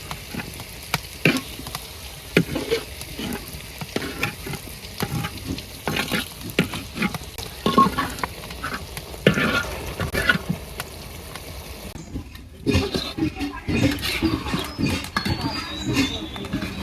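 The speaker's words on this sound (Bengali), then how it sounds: "এবারে লাল লাল করে ভাজি নিচ্ছি আলু" Potatoes frying in a pan for a village-style Bengali biryani, sizzling steadily with repeated stirring clatters and scrapes, close and clear with no talking.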